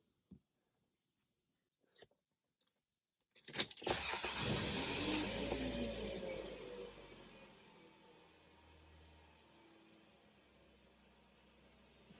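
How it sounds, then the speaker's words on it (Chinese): Engine of a Toyota Previa (Estima) minivan cranking and catching after a few faint clicks, then settling into a steady idle close by, with a brief rise early on before quieting to a low hum. "上车发动，稍微转一下方向盘"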